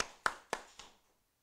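Applause during a Korean church Easter service comes through as three sharp, evenly spaced hand claps, quick and fairly faint, each fading fast before the next and ending in silence.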